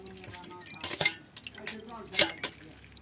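Fresh chhana rinsed with water in a metal strainer in a kitchen, with light splashes, clinks and drips as the curds are washed, under a voice talking.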